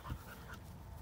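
A dog at a meet and greet pants and whimpers faintly, with a soft quick breath and a brief thin whine near the start, close by under low background noise.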